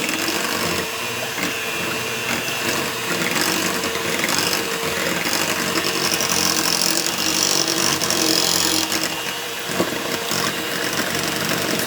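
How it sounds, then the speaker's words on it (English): A motorized mixer whirs steadily while blending homemade pumpkin pie filling made with squash and spices, a loud continuous buzzing hum with slight wavering and no talk. "So I'm going to mix this before I add the water."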